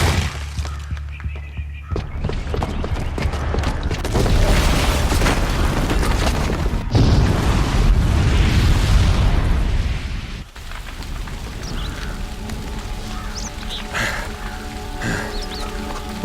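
A bomb blast in the Horizon Zero Dawn video game, set off by a booby trap downstairs: a loud, deep boom with rumbling debris that sustains for several seconds, then settles into lingering crackles and ambient game noise.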